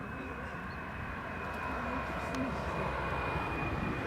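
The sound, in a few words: Jet2 airliner coming in at Leeds Bradford Airport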